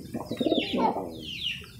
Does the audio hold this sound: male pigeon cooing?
yes